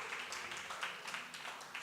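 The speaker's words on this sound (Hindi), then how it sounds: "पति लोग ताली बजाओ." Husbands in a church congregation clapping together, a faint, dense patter of hands spread through the room with a murmur of voices underneath.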